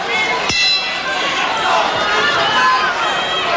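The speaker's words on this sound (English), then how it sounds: "And here's the action just as they came to the final bell." A ringing bell closes a round of the Riddick Bowe versus Art Tucker boxing match at Harrah's in Atlantic City, one sharp clang with a sustained ring under a loud, continuous arena crowd roar.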